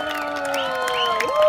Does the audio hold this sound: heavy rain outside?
no